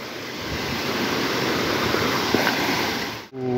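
Khare Khola river flowing steadily in Nepal, a broad, continuous rushing wash of water close by that holds at an even level, then cuts off abruptly near the end, followed by a brief tonal sound.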